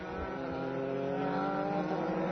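Formula 3 race cars at Interlagos running on rain tyres, a continuous loud engine drone with layered harmonic whine as they accelerate, no voices present.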